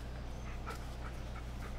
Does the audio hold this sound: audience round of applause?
no